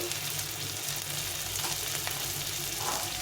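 Spices sizzle steadily in hot oil as ground cumin goes in on top of turmeric in a home-cooked Bengali dish, a continuous close frying hiss with no talking.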